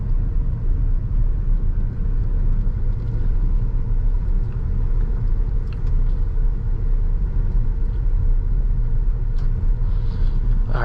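A 2014 Audi Q7 Premium Plus SUV with a 3.0T engine drives on the road, heard from inside the cabin as a steady, loud low rumble of engine and road noise with no talking.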